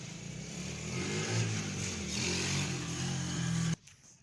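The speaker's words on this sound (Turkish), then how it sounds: "motorun sesinden durdurmak zorunda kaldım" A motor engine runs nearby with a steady, throaty drone that swells slightly in the middle, then cuts off abruptly near the end, leaving near silence.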